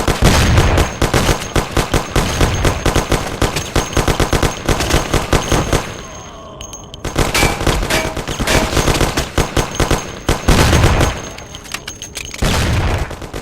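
Rapid machine-gun bursts and gunshots crackle through a shootout in the game Mafia: The City of Lost Heaven, loud and nearly continuous, with a short lull midway before the dense firing picks up again.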